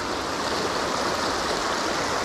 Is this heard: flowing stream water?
yes